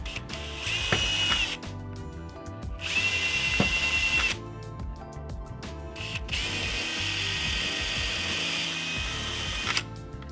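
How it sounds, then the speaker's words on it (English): A power drill bores along a marked line on the back of a Surron plate, several loud whining bursts separated by brief pauses, close up and without talk. "We want to drill on the line on the back side."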